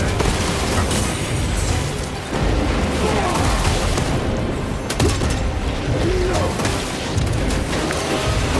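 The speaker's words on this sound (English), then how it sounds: "Deploy frag grenade!" A frag grenade blast in Space Marine 2, a loud booming burst set within a dense, continuous wash of battle noise and low rumble, with no clear talk over it.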